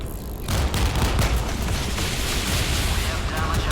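Anti-aircraft guns in the Modern Warships naval combat game fire rapidly at an incoming missile, a dense loud rattling barrage that kicks in after a brief quieter moment and continues without a break.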